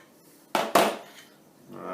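Metal grinding wheel flanges and a washer for a toolpost grinder handled in a workshop, giving two sharp close clanks in quick succession followed by a faint, softer clink.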